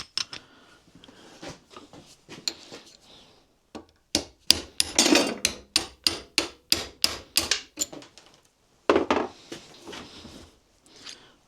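Hammer blows ring out against metal while a rivet is tapped out of a Massey Ferguson levelling box, first a few light scattered taps, then a steady run of about a dozen sharp, evenly spaced strikes, close and loud, with a final cluster near the end.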